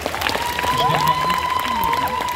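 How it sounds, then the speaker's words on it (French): Applause from a crowd at a cosplay show at Japan Expo Centre 2023, a sustained clapping wash with scattered cheers, partly under an amplified voice and whistling feedback tones. "une dernière fois, une main d'applaudissement pour tous les cosplayers"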